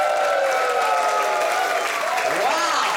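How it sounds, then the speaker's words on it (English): Audience at a musical clown's show clapping steadily for a short test round, dense continuous applause with a few whoops and voices rising over it. "Perhaps you can give me a real ecstatic applause"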